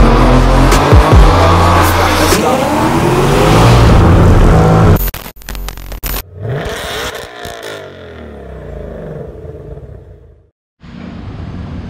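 A 2018 Mustang GT with a Corsa catback exhaust makes a dyno pull, the engine revving hard and loud with rising exhaust bark and tire whir, then cutting off abruptly into choppy, fading decel sounds and a brief silence.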